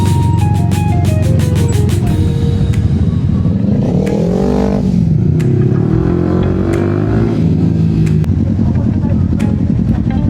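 A loud engine drones continuously at close range as a vehicle rides along, pitch rising and falling, with voices talking over it.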